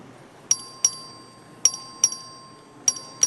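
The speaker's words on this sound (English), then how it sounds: "This is a record vote. The clerk will ring the bell." The clerk's vote bell rings on the Texas House floor during a record vote: six sharp, bright single dings in an irregular pattern, some in quick pairs, each ringing briefly and standing alone over a faint room hush.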